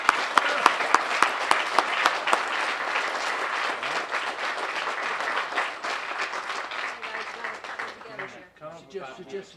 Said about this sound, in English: So round of applause for them and everything that they mean for us and for our future Westchester County.